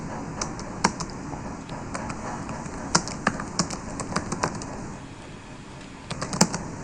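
Code being typed on a computer keyboard during a JavaScript lesson: a run of quick, uneven key taps, some sharper than others, with a short pause before a final flurry, close up and with no talking.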